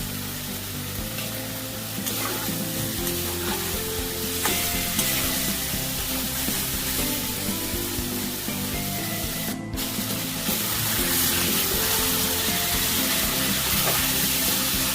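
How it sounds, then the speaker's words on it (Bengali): Mutton curry with chopped tomatoes frying in a pan, a steady loud sizzle with stirring and scraping sounds running throughout, close up and without any talking. "খুব ভালো করে কষে নেবো"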